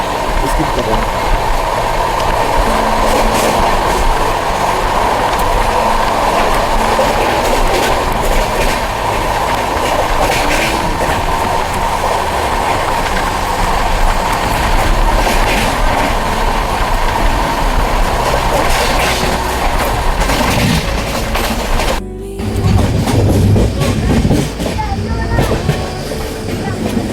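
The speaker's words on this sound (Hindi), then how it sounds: "हम लोग पाला माउंट को स्किप कर रहे हैं।" Triveni Express 15074 running on rails between Tanakpur and Lucknow, a loud continuous rumble with rhythmic clickety-clack of wagons and a sharp change in tone near the end, heard from on board.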